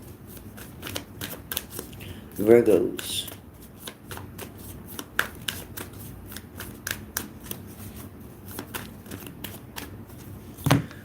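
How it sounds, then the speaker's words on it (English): A deck of tarot cards is shuffled again and again in quick riffling bursts, close and fairly quiet, while a voice speaks briefly over it. "Now I'm being told to shuffle."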